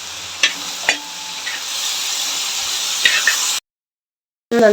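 Fresh curry leaves on their stems sizzle with salt in a hot pan, a steady frying hiss broken by a few sharp crackles and stirring clinks, then a sudden cut to silence before the sizzle returns.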